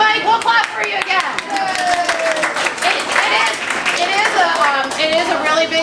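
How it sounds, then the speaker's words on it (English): An audience at a high school allied soccer awards event claps for Mike, with scattered, fairly close hand claps running under a voice as he keeps talking. "we'll clap for you again"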